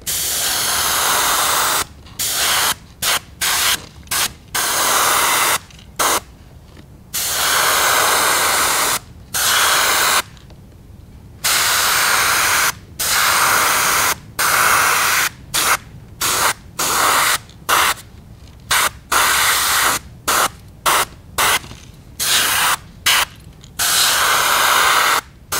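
An airbrush sprays paint in many short hissing bursts of irregular length, separated by brief silences, close and fairly loud throughout.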